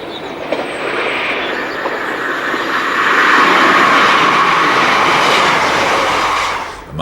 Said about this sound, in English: Among the daytime freight services routed via the Lickey Incline is this trainload of pressurised gas tanks from Baglan Bay to Humber